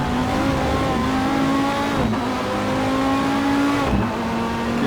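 Race car in Assetto Corsa under heavy braking: a loud, continuous engine roar that dips sharply twice as the revs drop, with no talk over it.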